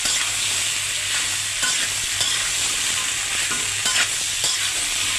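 Taro stolons frying in hot oil while being stirred, producing a loud, close, steady sizzle with repeated scraping strokes of the spoon, no voices.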